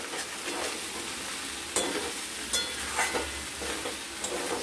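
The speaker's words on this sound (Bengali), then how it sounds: "কাঁচা সরষের তেল দিয়ে আমরা এটাকে ভালো মতো একটু নাড়াচাড়া করে নেব" Chela fish curry dressed with raw mustard oil is stirred in a sizzling pan, with steady frying hiss and several distinct utensil scrapes and knocks spaced through the clip, no speech.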